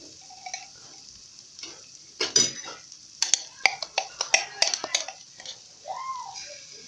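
Ginger garlic paste frying in two tablespoons of butter in a pot, a soft sizzle under clinks and scrapes of a utensil stirring against the metal, with a faint voice at times.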